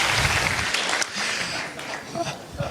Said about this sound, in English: The first and only applause for Mr. Tony Abbott.